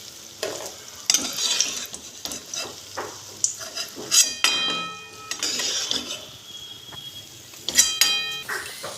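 Continuous crackling of food frying in oil, with occasional clinks and metal scrapes from utensils against the pan, close and fairly loud.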